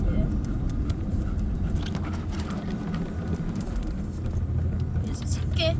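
Pickup truck engine running steadily while driving, a continuous low rumble with road noise and occasional rattles inside the cab, with a person talking over it and a dog riding along.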